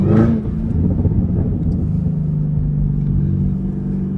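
A Chevrolet Camaro ZL1 1LE driving, its engine giving a loud rev at the start before settling into a deep, steady rumbling drone heard from inside the car.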